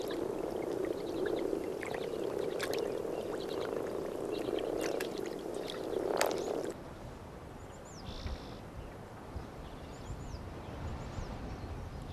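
Frogs croaking in chorus at a snowfield breeding site, a steady dense drone with scattered clicks for several seconds, then cutting away to a quieter outdoor ambience with faint distant calls.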